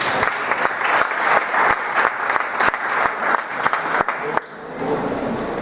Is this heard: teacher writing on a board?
no